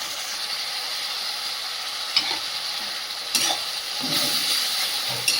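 Chicken with onion paste and ginger-garlic paste fries in a pan, giving off a steady, hissing sizzle. A few stirring scrapes come through in the second half, where the frying grows slightly louder. No voices can be heard.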